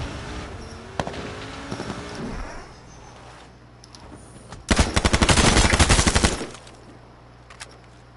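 Gunshots fired at a vehicle in the video game H1Z1: scattered single shots early on, then a loud, dense burst of rapid automatic fire lasting more than a second, followed by a quieter background.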